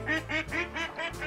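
A duck quacking in the hunting game Way of the Hunter, five quick, evenly spaced quacks in a clear, close sequence with no other sound.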